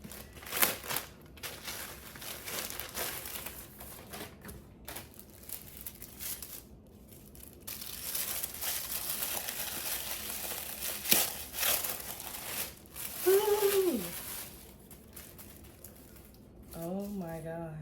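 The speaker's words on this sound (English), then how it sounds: "So let's unwrap the second bag." Packaging crinkles and tears as a Kurt Geiger Mini Kensington purse is unwrapped, with bursts of crumpling paper or plastic rustling close by, interrupted by brief voiced exclamations.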